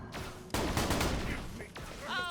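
A Jakobs Striker shotgun fires in Borderlands The Pre-Sequel, one sharp blast followed by a dense, sustained crackle of impacts and echoes, with a fainter later report.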